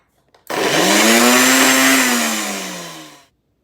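An electric grinder grinding bread into powder for no-stove bread barfi, a single loud whirring burst of about three seconds that starts abruptly, holds steady, then winds down and stops.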